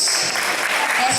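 Audience applause at a school math and science quiz bee, a steady wash of clapping filling a hall for a short moment, with a voice faintly audible beneath it.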